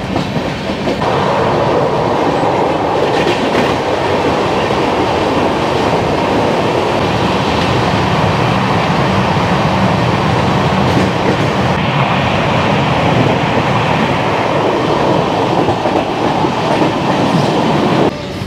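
A Mumbai local passenger train rumbles loudly and steadily from inside the carriage, wheels clattering on the rails with a continuous roar and no voices.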